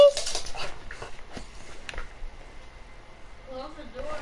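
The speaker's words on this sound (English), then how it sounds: "Puppies! Puppies! Puppies!" Soft, high-pitched whimpers from young dogs near the end, following some rustling and handling noises up close.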